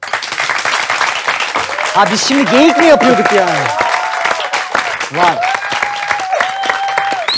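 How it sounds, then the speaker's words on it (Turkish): A studio audience on a talk show claps steadily and densely throughout while several people talk and laugh over it, the applause fairly close and loud. "Ferman'ın geyiğini beğenme oranında bir alkış alabilir miyim?"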